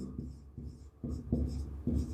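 Chalk or marker scratches across a board during a physics lecture on magnetism, several short rhythmic strokes in quick succession, close and moderately loud with no voice over them.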